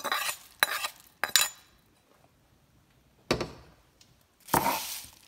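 Curry leaves and coriander seeds dry-roasting in a pan for spice powder, stirred with a metal spoon in scraping, clinking bursts separated by quiet pauses, close and moderately loud.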